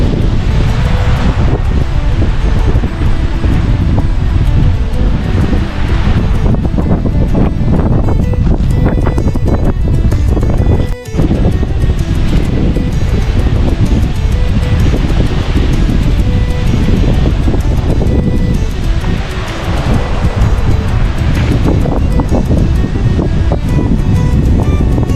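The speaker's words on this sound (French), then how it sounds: "Il y a un vent d'enfer aujourd'hui." Strong seaside wind roars continuously, loud and close, gusting into the microphone beside the water near a château in the Fouesnant forest.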